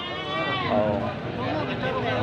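Boer goats bleat loudly and continuously, their wavering cries layered over each other close by.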